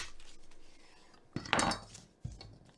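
A sharp knife pressing through a big grocery-store onion, with two or three crisp, close cuts and crunches against a board in an otherwise quiet kitchen.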